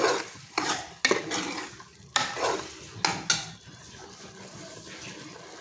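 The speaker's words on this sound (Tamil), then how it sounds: "இப்போது எல்லாத்தையும் வந்து நல்லா வதக்கிடுங்க" Spices sauté in a pan for kara kuzhambu, a spoon scraping and stirring in quick strokes over a steady low sizzle, close and fairly loud with no talk.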